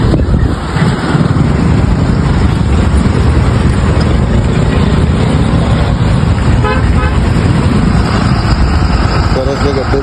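Loud, dense traffic jam on a bridge over the Ganga river where pothole repairs are underway, with engines idling and repeated car horns tooting throughout, voices mixed into the din.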